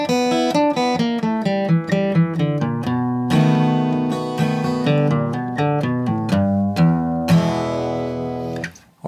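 Electric guitar plays a fast alternate-picked descending lick, evenly spaced crisp notes running downward with a short pause and a final held note, close and alone.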